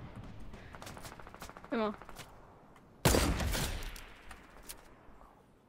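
A burst of gunfire in the video game Fortnite, loud and abrupt, ringing out and fading over about two seconds. Earlier a short spoken word sits over quiet game ambience.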